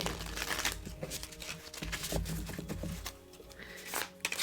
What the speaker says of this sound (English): We'll give them a little shuffle.